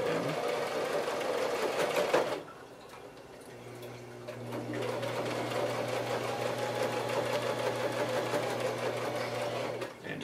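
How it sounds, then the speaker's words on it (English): Sewing machine stitching a handmade handbag, running steadily in close bursts with a brief pause partway through, no talking over the whirring. "And just try to take it slow and easy. Get good even stitches."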